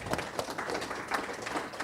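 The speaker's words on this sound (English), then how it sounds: "I want everyone to just give yourselves a round of applause" Conference audience applauding in a hall, a dense patter of many hands clapping together, moderately quiet and sustained over a short stretch.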